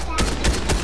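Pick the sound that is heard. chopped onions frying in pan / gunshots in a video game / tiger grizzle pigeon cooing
gunshots in a video game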